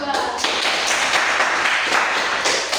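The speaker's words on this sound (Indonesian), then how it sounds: "Kita kasih aplaus dulu untuk kelompok 2" A class claps for group 2, a brief burst of dense, close clapping that carries steadily for a few seconds.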